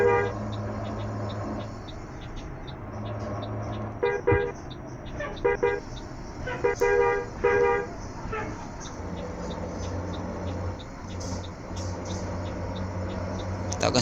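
A Hino RK bus engine drones steadily in Bus Simulator Indonesia, heard from inside the interior, with several short horn toots breaking in repeatedly over the middle stretch.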